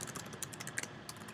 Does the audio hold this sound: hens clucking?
no